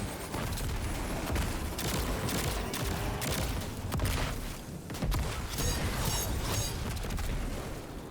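Heavy, continuous weapon fire in the shooter Destiny 2: loud, rapid repeated shots and booming blasts packed densely throughout, with no talk over them.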